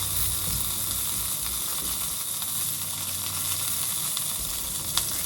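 Urad dal, mustard seeds and curry leaves sizzle loudly in hot oil, a dense continuous hiss close by with faint pops and a small clink near the end.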